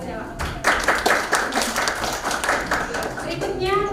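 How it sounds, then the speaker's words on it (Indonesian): Classmates in a school biotechnology lesson clap for a student, a short burst of uneven group clapping up close that trails off, with voices heard near the end. "Tepuk tangan buat Gracella."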